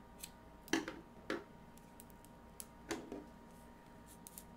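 Scissors snip through the leftover yarn tail of a crocheted Halloween cat, giving a few quiet, separate clicks spread across a calm, otherwise silent moment.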